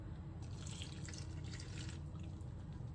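Water pours from a kitchen tap into flour for sourdough bread dough, a steady close trickle with faint splashing and dripping, alone and fairly quiet.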